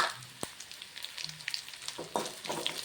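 Ginger, garlic and curry leaves stir-frying in oil as the base for a fish curry, a soft continuous sizzle with scattered crackles and light stirring taps, heard close and alone.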